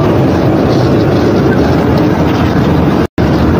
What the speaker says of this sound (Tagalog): Pero iba yung andar ng ating motor.